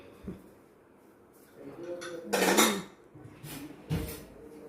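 A lid is lifted off a pot of sambar in a home kitchen, with a few close metallic clanks and a louder clattering scrape midway, plus faint background voice.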